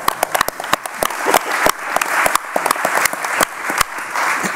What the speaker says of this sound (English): That needs a clap